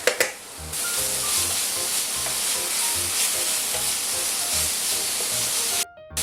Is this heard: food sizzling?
yes